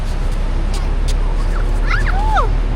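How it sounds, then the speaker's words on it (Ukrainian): Small dog whimpers and high yips come in short bursts near the end, over steady outdoor background noise with traffic faintly present. "песик прибіг."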